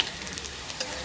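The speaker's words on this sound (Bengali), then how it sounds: "এদিকে তেল গরম হয়েছে, ফোড়নে দেবো তেজপাতা, শুকনো লঙ্কা, জিরে আর গোটা গরম মশলা।" Bay leaf, dried red chillies, cumin seeds and whole garam masala crackle and sizzle in hot oil, a steady close frying hiss with small pops throughout and no talk.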